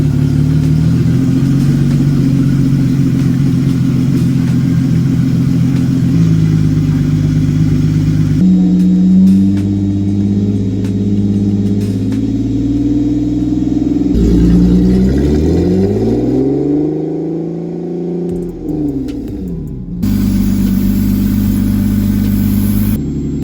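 A Toyota 2JZ inline-six in a GS300, running with no catalytic converter, idles steadily and loudly up close, with its pitch dipping and swelling a few times as the revs shift, continuous throughout with no talking.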